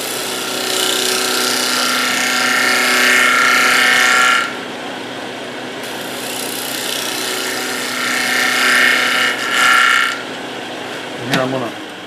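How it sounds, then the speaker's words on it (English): A wood lathe turning a winged bowl, a steady loud whir with bursts of rough scraping as the tool cuts the spinning wood, ending with a short sharp knock. "And I will speed my lathe up on that."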